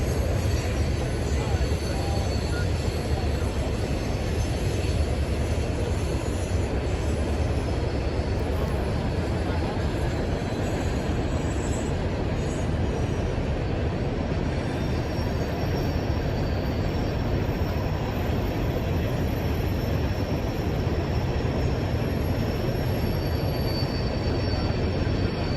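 A Norfolk Southern mixed freight train rumbles past continuously, wheels grinding and squealing along the rails in a loud, steady roar that never lets up.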